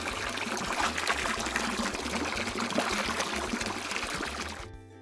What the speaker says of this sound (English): I'm gonna start by rinsing you off first.